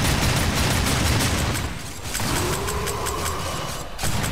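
Enemy gunfire rattles in the Darksiders II video game as dense rapid bursts of shots, dipping briefly and then resuming amid mechanical in-game noise.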